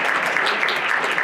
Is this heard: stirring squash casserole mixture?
no